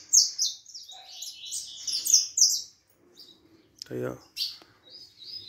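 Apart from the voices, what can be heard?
canário-da-terra (saffron finch) singing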